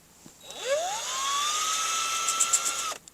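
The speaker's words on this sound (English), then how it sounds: "now I'm going over it with a P180 because it's already quite smooth" A power sander with a P180 pad on curb-rashed Tesla alloy wheel winds up to a steady high whine, runs evenly for a couple of seconds, then cuts off.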